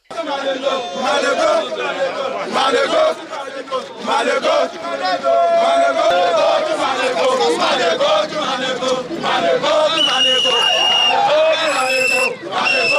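A large, dense crowd clamours at the Ofifofu Festival in Igarra, with loud shouting, chanting and babble of many voices merging into a continuous, energetic din throughout.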